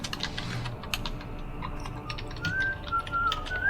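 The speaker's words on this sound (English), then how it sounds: "Sorry, I'm typing slowly." Quick, irregular key taps on a keyboard, close by, with a thin whistled tune drifting in during the last second or so.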